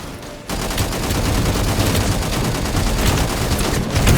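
Sustained machine gun fire in the shooter Angels Fall First, a loud continuous rattling burst that starts abruptly after a short lull and keeps going steadily to the end.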